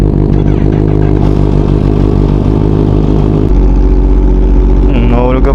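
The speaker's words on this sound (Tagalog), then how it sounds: "Tara, cold start natin." A Kawasaki ZH2 motorcycle engine cold-starts in a quiet subdivision, its loud, steady rumble running throughout with a shift in tone midway and a brief rising rev near the end.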